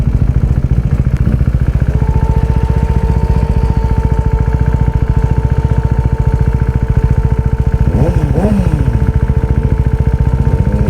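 A Kawasaki Ninja ZX-10R motorcycle engine runs close by with a loud, rapid, even pulsing throb that holds steady for about eleven seconds.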